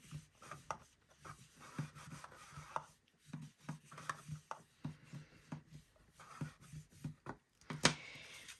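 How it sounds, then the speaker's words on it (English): A bone folder burnishing folded paper on a stamped book box, giving soft repeated rubbing strokes and light taps, close and quiet. "I'm going to take my bone folder and just kind of burnish that in there"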